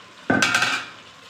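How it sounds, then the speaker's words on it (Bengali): The lid of a curry pot of goat meat coming off with a sudden metallic clank and scrape, followed by a short ringing, steamy rush that fades. "এবার ঢাকনাটা খুলে দেখব।"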